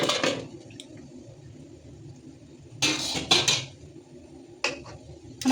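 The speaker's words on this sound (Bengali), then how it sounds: "এবার ঢাকনাটা সরিয়ে দেখে নিই যে আমার সবজিগুলো সেদ্ধ হলো" A metal lid comes off a cooking pot of boiled vegetables for a South Indian dish, a few sharp clanks and scrapes of metal on metal separated by quiet gaps, close by.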